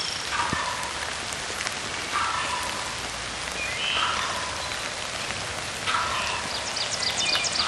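Heavy rain pours steadily in a Pennsylvania spring woodland during a turkey hunt, a constant loud hiss throughout, with a wild turkey gobbling repeatedly in bursts through the downpour.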